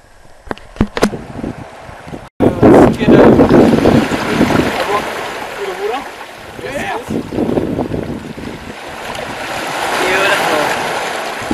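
Waves washing in at a summer beach, a steady broad surf rush with wind buffeting the microphone, starting after a brief quiet moment and swelling again toward the end.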